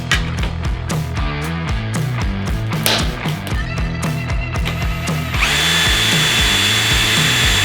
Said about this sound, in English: Drill our holes where we want them